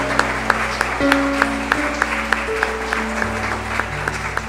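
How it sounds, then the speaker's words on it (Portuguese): Church congregation claps over sustained keyboard chords, with a rhythmic, evenly spaced beat of hand claps and a broader wash of applause as organ-like notes shift underneath. "Você pode dar uma salva de palmas ao Senhor?"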